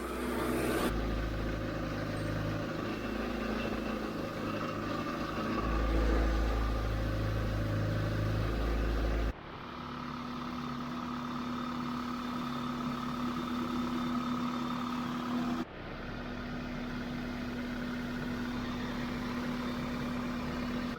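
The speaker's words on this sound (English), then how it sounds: "It's probably a little loud, the engine's a little loud" A car engine idles steadily during an AC refrigerant recharge, a low, even rumble with a faint hum that continues through two abrupt cuts.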